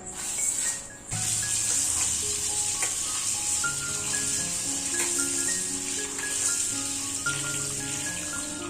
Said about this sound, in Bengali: এই যে এদিকে বেরেস্তা ভাজা হচ্ছে